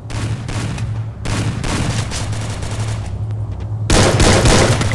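Rapid bursts of MP40 submachine gun fire in the Free Fire battle royale game, loud continuous volleys broken by short pauses, with a heavier burst near the end.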